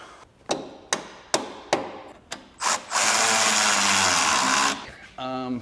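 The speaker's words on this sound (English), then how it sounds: "Try out my new hammer." Five sharp blows from a new hammer strike at an even pace while lifting a 1990-98 Mitsubishi Minicab truck, followed by a loud whirring tool and a brief voice.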